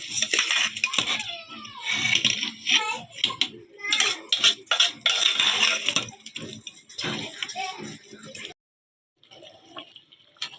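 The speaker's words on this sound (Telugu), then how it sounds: "ఇప్పుడు వాటర్ బాగా బాయిల్ అవుతున్నప్పుడు రైస్ వేసుకోవాలండి" Rice grains pour into a pot of boiling water for vegetable pulao, making close rattling and splashing bursts over the bubbling. The bursts come in uneven waves and stop in a short silence near the end.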